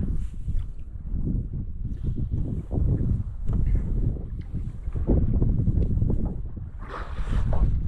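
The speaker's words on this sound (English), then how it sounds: "I can hear a boat." A boat on open water at night, heard from a transparent kayak; a steady low rumble mixed with wind and water noise, fairly loud and continuous without talk.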